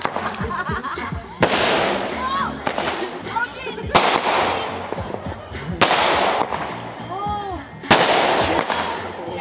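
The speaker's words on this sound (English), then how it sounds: "Yeah, it's gonna be a fountain. No. Oh yeah, it is. Oh man, that's a real firework." Fountain firework going off at home for the Fourth of July: a crackling, hissing spray punctuated by sharp bursts about every two seconds, with whistling streaks and voices close by.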